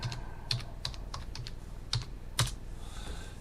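Someone types a search into Google on a computer keyboard, with a steady run of close, crisp key clicks and a few louder strokes, no voices.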